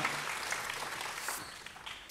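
A church congregation applauds at a Friday service, with steady, moderately faint clapping that fills the whole stretch and no talk over it.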